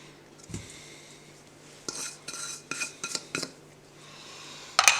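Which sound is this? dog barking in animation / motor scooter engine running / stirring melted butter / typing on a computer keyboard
stirring melted butter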